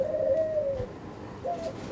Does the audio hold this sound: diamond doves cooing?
yes